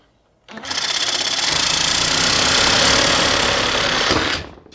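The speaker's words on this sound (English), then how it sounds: "we're down to the sawzall" A sawzall reciprocating saw cuts into a Series 1 Land Rover swivel housing, starting abruptly and running loud and close for about four seconds with a fast, buzzing rasp before stopping.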